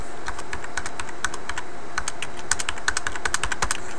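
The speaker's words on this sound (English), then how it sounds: "And I'm going to type in IP" Rapid keystrokes on a computer keyboard as a command is entered into a Cisco 3850 switch in config mode, irregular clicking taps close up with no talk over them.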